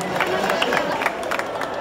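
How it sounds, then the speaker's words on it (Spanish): Graduation audience applauding their teachers at a school ceremony, a broad wash of clapping and crowd noise with scattered cheers and voices mixed in. "Démosles un aplauso a sus profesores y profesoras."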